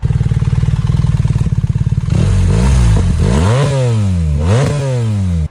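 BMW R 1300 GS Adventure boxer engine idling with a steady, close rumble, then revved repeatedly in rising and falling sweeps that end abruptly.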